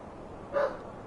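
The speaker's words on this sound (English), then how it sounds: "Freaking dog." A single short dog bark, fairly close and moderately loud, stands out briefly against a quiet indoor background.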